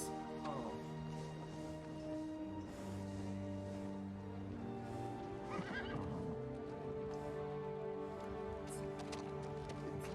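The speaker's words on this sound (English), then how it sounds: "See, this horse is just as much distraught as" A horse neighs and whinnies loudly in a fantasy drama episode, with faint hoof clip-clops and a steady musical score underneath, no speech heard.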